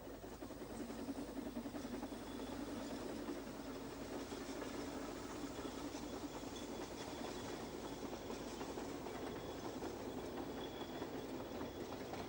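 A narrow gauge steam train rumbles along steadily with continuous rolling clatter and a faint whine, loud and unbroken throughout.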